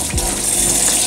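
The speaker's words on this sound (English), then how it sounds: "Fill that up with water," Tap water gushes steadily into a container to make a vinegar bath for indigo dyeing, a loud, close, continuous pour with no pause.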